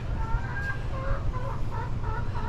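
Hens cluck and a rooster murmurs softly in short repeated calls over a low, steady background rumble, as a hen prepares to lay an egg.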